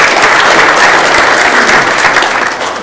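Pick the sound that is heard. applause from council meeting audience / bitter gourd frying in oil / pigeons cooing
applause from council meeting audience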